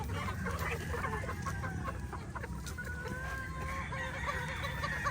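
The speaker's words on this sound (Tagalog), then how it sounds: "Mga chicks." Chicks cluck and peep continuously in a pen, many birds chirping and clucking over one another at close range against a busy farmyard background.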